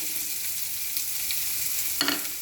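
Ginger and garlic frying in a pan for pav bhaji, with a steady bright sizzle throughout and a brief stir or clatter near the end, close and fairly quiet.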